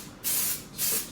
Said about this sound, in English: spray mold release on this guy